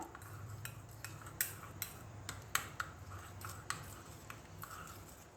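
A spoon clinks and taps against a bowl while a multani mitti face pack with lemon and tomato is mixed, giving faint, irregular light knocks close by with no talking.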